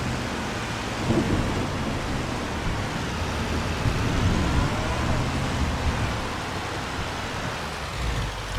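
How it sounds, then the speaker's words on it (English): Steady rain with low rolling thunder in the Farming Simulator 25 game, set on a Louisiana farm, a broad continuous wash that swells around the middle and stays even throughout, with no talking. "if it doesn't stop raining by the time we sell the milk"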